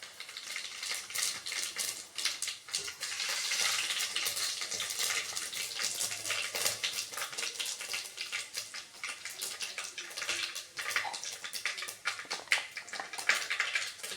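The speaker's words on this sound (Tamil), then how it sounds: "கடுகு நல்லா பொரிஞ்சிருச்சு." Mustard seeds crackle and pop in hot oil while tempering for Trichy-style sambar, a dense continuous sizzle with rapid irregular snaps, close by and steady throughout.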